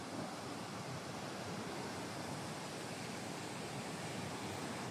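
The swollen Damodar river rushes past after the Tenu Ghat dam gates open, a constant broadband roar of water heard from a distance and holding steady with no voices.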